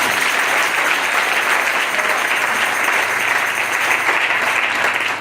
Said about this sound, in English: Give the Lord a clap for them.